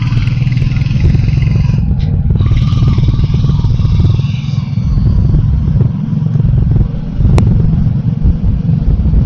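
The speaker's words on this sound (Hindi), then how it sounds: "नहीं भैया मैं अभी बाइक चला रहा हूँ" A Royal Enfield motorcycle rides through Delhi traffic, its engine a dense, continuous rumble close to the microphone, with a brief sharp click near the end and no talk over it.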